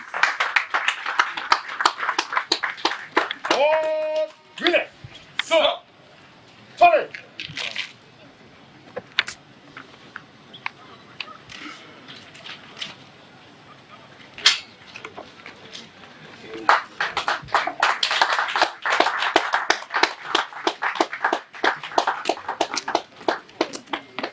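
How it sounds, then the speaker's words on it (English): Applause for Captain Benjamin Jackson Sam at a live brigade event: scattered, uneven clapping that comes in bursts, thins out in the middle and picks up again, under and between people talking. "Another round of applause for Captain Benjamin Jackson Sam."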